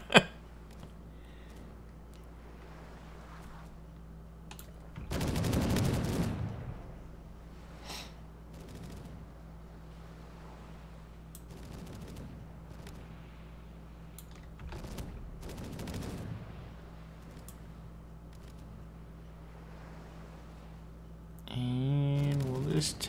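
Gunfire bursts in the naval video game Caribbean!, heard as a couple of short loud volleys amid a low steady game hum, with a brief tonal effect near the end and no talking.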